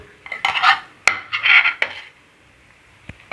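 A spoon stirs coriander powder, red chili powder, turmeric and salt into tomato rice masala in a pan, making a few sharp metallic taps and short scraping bursts, then quiet.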